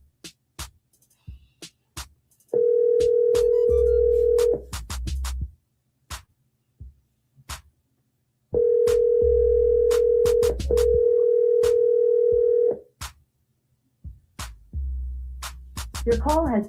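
A phone call being dialed and ringing through, with two long steady ringback tones of about four seconds each, separated by short clicks and a low hum, and brief sounds before and after.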